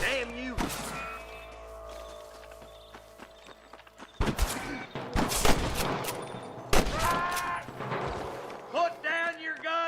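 Gunfire in a Wild West shootout in Red Dead Redemption, with bursts of loud sharp shots clustered in the second half over a tense, shifting background with horse sounds and voices.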